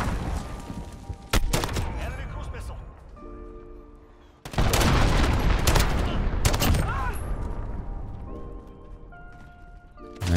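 Sniper rifle gunfire in a first-person shooter video game, several loud sharp shots with echoing tails spread across the clip, one heavy burst in the middle, under game effects and a player's voice talking.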